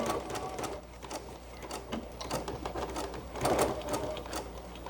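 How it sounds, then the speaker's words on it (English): A sewing machine runs in steady close-up bursts while back stitching along the edge of a fabric face mask, its rapid mechanical whir rising and pausing through the stretch with no talking. "So I'm going to just get this lined up and we're going to stitch."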